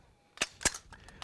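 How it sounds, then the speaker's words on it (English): A carbine rifle's action closing on a firing range during a carbine class warm-up drill, heard as two sharp metallic clacks close together, followed by fainter clicks. "Shooters, go ahead and close the action."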